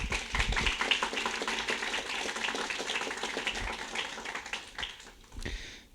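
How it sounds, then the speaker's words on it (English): Audience applause for panel speakers at a workshop on masculinity in the #MeToo era, a steady patter of hands clapping at moderate distance that thins toward the end. "Give a round of applause to our speakers."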